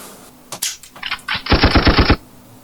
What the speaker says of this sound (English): Let's just hear it go off one more time.